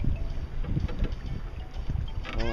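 Wind buffets the microphone while sailing on Blue Mesa Reservoir under a double-reefed mainsail, a gusty rumbling roar with water sloshing against the hull and a faint creak near the end.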